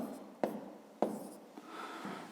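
Numbers are written by hand during a fifth-grade long-division exercise: two sharp pen-on-paper taps, then a short scratchy stroke, close and quiet in a near-silent room.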